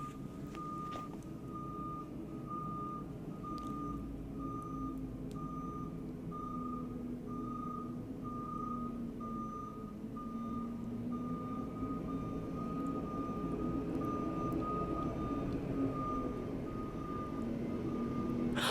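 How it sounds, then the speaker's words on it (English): A garbage truck's reversing alarm beeps steadily and evenly over a low idling engine rumble, repeating throughout with no talking. "There's trash trucks beeping."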